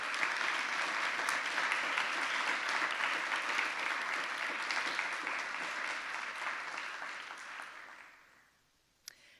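Sustained audience applause welcoming four finalists at a peace oratorical contest, a dense steady clapping of a full crowd that holds for several seconds and then tapers away to near silence.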